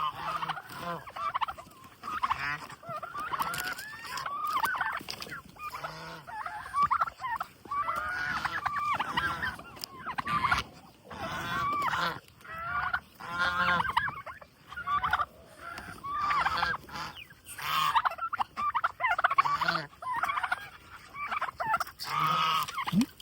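A flock of geese calls continuously, loud and close, with overlapping gobbling and honking cries layered densely throughout.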